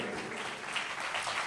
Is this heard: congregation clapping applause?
yes